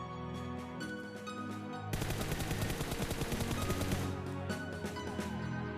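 Rapid automatic gunfire bursts from a video game shooter, a dense stream of loud shots in the middle of the clip, with quieter gameplay sounds before and after.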